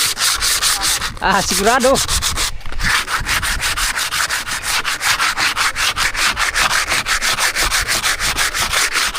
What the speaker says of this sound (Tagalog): kailangan mo lang lihain para yung mga puksi na hindi magandang tingnan ay matanggal